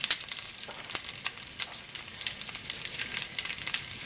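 Field Roast vegan sausage links frying in a pan, giving a steady, close crackling sizzle with scattered sharp pops throughout and no voices.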